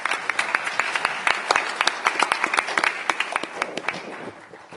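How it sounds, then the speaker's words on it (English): A World Economic Forum annual meeting audience applauds a panel on EU unity, a fairly sparse crowd clapping with distinct individual claps standing out, steady for several seconds before thinning and fading toward the end. "I think we should start to give them a big applause."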